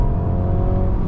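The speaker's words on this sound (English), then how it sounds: "and we're going to put the pedal down." A 2023 Mercedes-Benz C300 with its 4-cylinder engine under full throttle in the fast lane, a steady loud drone of engine and road noise heard from inside the cabin.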